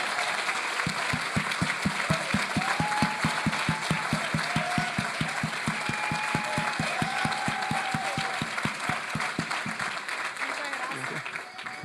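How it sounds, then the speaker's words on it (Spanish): Applause fills a church hall: steady, rhythmic clapping from a congregation keeps an even beat for about nine seconds, loud and close, with faint voices and tones underneath before it fades. "quiero de verdad que le brinden un fuerte aplauso a Irene y a todo su equipo."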